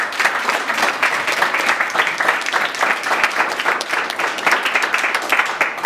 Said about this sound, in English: you might just give them a quick round of applause